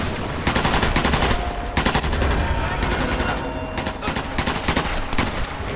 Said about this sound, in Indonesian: Apa sih ini tembakan